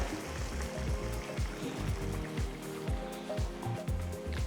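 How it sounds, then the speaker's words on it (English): Pressure-cooked mutton pieces are moved into a pan in a run of repeated wet plops and soft clinks, each followed by a short liquid slosh, close by and steady. "Slowly transfer the mutton pieces from the pressure cooker into the pan."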